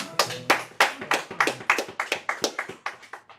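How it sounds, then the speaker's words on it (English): A class of people clapping hands together in a steady rhythm, about a dozen sharp, close claps over a few seconds with no talking. "All right, clap it up."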